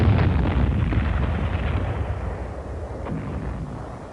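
Artillery and small-arms gunfire from the WWII battle for Attu: a dense, continuous roar of overlapping blasts and rumbling bursts that stays loud throughout, with no talk.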